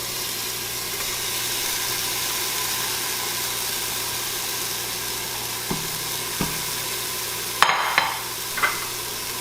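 Chopped onions saute in about a tablespoon of oil, a soft, even sizzle under a steady low hum, with a few light clinks of a utensil against the pan near the end.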